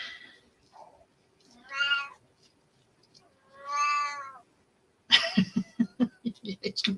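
A pet cat meows twice indoors, separate drawn-out cries with quiet gaps between them, and then a person speaks close by.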